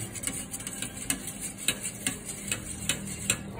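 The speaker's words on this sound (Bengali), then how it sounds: "এখন মিক্সড করো আবার হালকা করে" A spoon stirring a pudding mixture with milk in a bowl, producing regular light clinks and scraping taps in a steady rhythm, close and clear with no talking.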